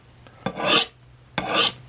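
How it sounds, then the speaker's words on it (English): An Ontario MK3 U.S. Navy dive knife is swiped along a turning sharpening rod at a shallow angle, making two close, crisp raspy scrapes about a second apart, with no voices. "I'm going to swipe several times. I like to turn my sharpening rod as I'm swiping it."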